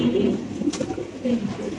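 A large Indonesian Mundian cock pigeon of Andalusian bloodline coos in low, throaty murmurs, close and moderately loud, with soft rustling around it.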